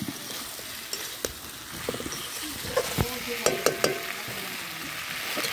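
Vegetable stalks are sautéed and stirred in a pan while cooking a pond tilapia fish dish, a constant sizzling hiss broken by sharp, irregular clacks and scrapes of a spoon against the pan.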